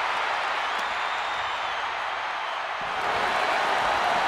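Loud, steady roar of a wrestling arena crowd in the video game WWE 2K24 during a Brock Lesnar versus The Fiend world title match, a dense wash of cheering and clapping filling the whole stretch without a break.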